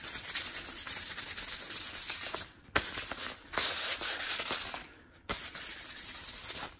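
Sandpaper rubs over a hot, freshly burned wooden axe handle in quick, steady strokes, a close scratchy rasp broken by two short pauses.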